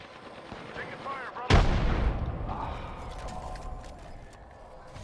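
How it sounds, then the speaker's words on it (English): A grenade in the video game Apex Legends goes off in one sudden loud blast that rolls off into a long decaying rumble, over quieter game sounds. "Watch this nade. Watch it."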